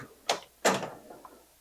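A drawer on a US General Icon Husky Harbor Freight toolbox slides, two quick metallic rolling swooshes of the drawer moving close by, then a faint click.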